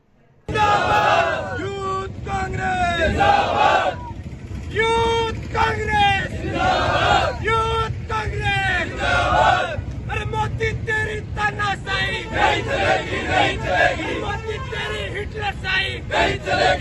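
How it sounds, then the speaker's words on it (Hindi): Protesters outside a Congress party office chant slogans loudly and rhythmically in unison, a close, energetic crowd of voices with repeated call-and-response shouts and steady background noise. "कार्यालय के आगे विरोध प्रदर्शन किया गया।"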